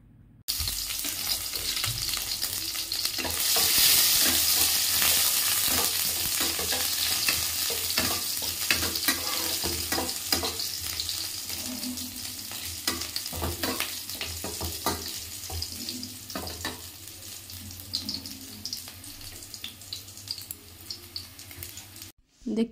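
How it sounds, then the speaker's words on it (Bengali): Chopped garlic, green chilli and cumin sizzle in hot oil in a pan, a continuous crackling fry punctuated by repeated scrapes and clicks of a stirring utensil, loud and near, easing slightly toward the end. "আর রসুনটা ভালো করে ভেজে নিতে হবে"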